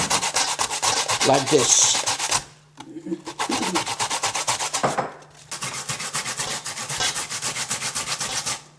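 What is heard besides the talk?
grating a carrot for gefilte fish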